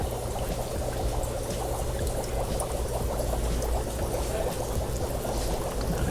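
Water pours steadily into a basin holding guppies, a continuous close splashing stream with no talking.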